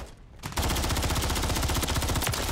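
Rapid automatic gunfire rattles nonstop in Call of Duty Modern Warfare III multiplayer, loud and close, after a brief quiet lead-in. The dense burst of shots runs to the end without talk.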